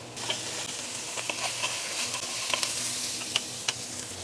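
Vegetables and carrots sizzle steadily in a hot pan, with a continuous frying hiss and a few light stirring clicks heard close up.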